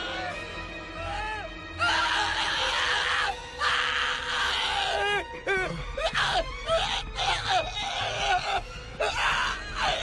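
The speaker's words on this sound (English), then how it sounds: "What was with that scream?" Screaming and wailing from several voices in an anime scene, loud, sustained cries rising and falling with brief gaps, some gasps and groans mixed in.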